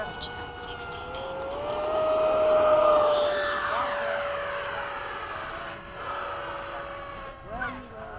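Airplane engines of Hawk aircraft flying in formation at Bayside near a runway drone loudly, with a whining tone that swells and then slowly recedes as the planes pass, and voices talk faintly underneath.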